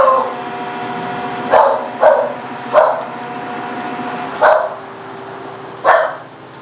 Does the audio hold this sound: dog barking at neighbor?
yes